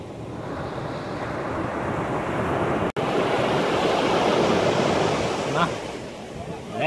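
Ocean waves rolling in on a beach in Goa, India, a continuous washing surf with wind, fairly close and steady, swelling and then easing near the end.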